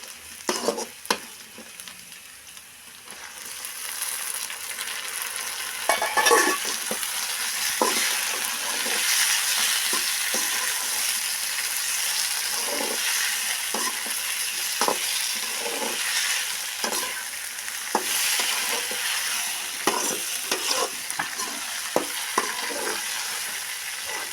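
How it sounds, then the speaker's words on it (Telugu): Seven chopped medium tomatoes fry in a pan for tomato pachadi, a steady sizzle running throughout with repeated scraping stirs of a spoon, close and fairly loud with no talking. "ఇప్పుడు అది వేసుకుంటున్నానండి ఒకసారి కలుపుకొని వేసుకుందామండి"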